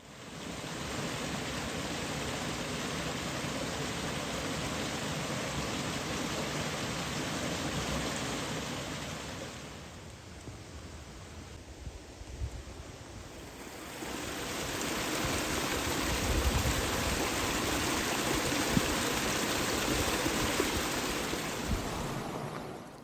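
Broad steady rush of swollen forest streams after three days of heavy rain, a constant wash of flowing water with a slight dip in the middle before swelling again, no voices.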